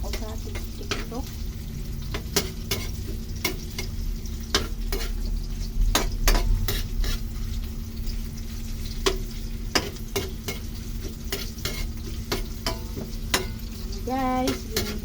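A pan of ingredients sautés before tuna goes in, keeping up a continuous sizzle under frequent sharp clicks and scrapes of a spatula stirring against the pan.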